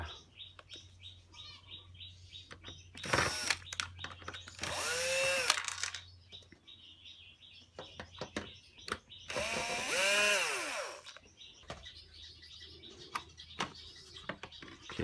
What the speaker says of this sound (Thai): ถอดน็อต3ตัว